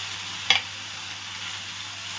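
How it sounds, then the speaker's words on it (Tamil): Chopped tomatoes sautéing in oil in a pan for chutney, a faint steady sizzle with one brief clatter partway through. "தக்காளி பழத்தையே நம்ம நல்லா வதக்கிக்கலாம்."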